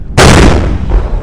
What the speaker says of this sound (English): our artillery is helping our infantry with a counter-offensive